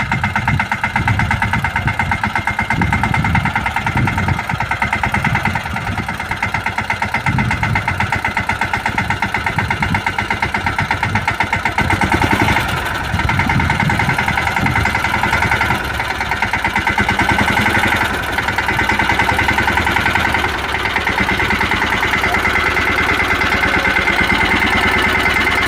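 A tractor engine idles and chugs at close range on a farm, a steady loud mechanical drone with a rapid knocking pulse that runs unbroken throughout, no voices.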